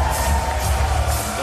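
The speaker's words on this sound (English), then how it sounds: "The crowd roaring in anticipation." A pro wrestling crowd at a World Cup quarter-final roars steadily in anticipation, a loud, continuous wash of cheering with no talk over it.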